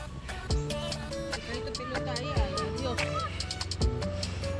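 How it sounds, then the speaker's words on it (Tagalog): Ducks by a river honk and quack repeatedly in a busy, overlapping chorus, with a few thumps and a steady background murmur. "Ito may mga pato."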